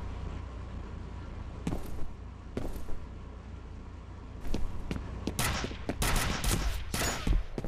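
Gunfire in the shooter game F.E.A.R. comes in sparse single shots at first, then a rapid, louder burst of automatic fire near the end, with no talking.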